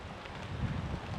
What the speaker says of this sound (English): it's raining and it's windy as all get out